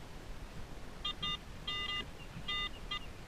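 A metal detector gives off short, clear, high electronic beeps in a quick series over a steady rumble of outdoor background noise, fairly faint overall.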